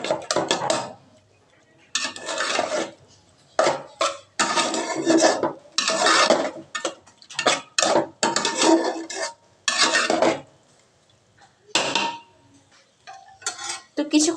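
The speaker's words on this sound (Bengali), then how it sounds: "আমি সুন্দর মতো নাড়াচাড়া করবো এটাকে আমি" A spoon scrapes and stirs ginger paste around a pan for noodles in short, repeated bursts separated by brief pauses, close and fairly loud.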